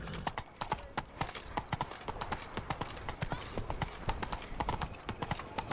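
Horse hooves clip-clop in a quick, steady rhythm from The Witcher 3: Wild Hunt game, close and clear, with continuous galloping strikes over faint ambient rustle.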